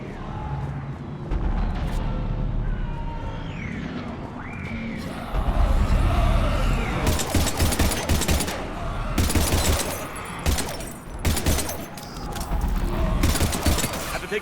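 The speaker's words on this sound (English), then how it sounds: "I've got Lieutenant Vega with me, but we're taking heavy fire" Heavy sustained gunfire in Mass Effect 3, with dense bursts, booms and crackling shots that grow louder and denser from the middle onward, amid a loud battle soundscape.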